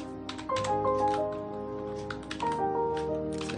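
Arduino code is typed on a computer keyboard in quick, scattered key clicks, heard faintly under a steady humming tone with a few soft tonal notes in the background.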